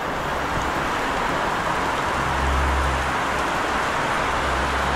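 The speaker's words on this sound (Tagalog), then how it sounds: "Ang lakas ng ulan mga kanaypi." Heavy rain pours down steadily as a dense, continuous hiss, loud and unbroken.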